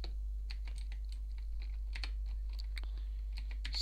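Computer keyboard keys clatter in quick, irregular bursts as a chat message for a Dragecraft game server is typed, close and fairly quiet with no talking over it.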